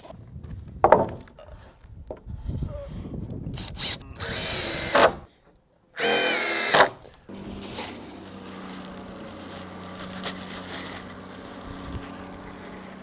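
A power drill drives GRK screws into lumber while framing barndominium windows, two loud sustained whirring bursts with knocks and clatter before them, followed by a lower steady hum.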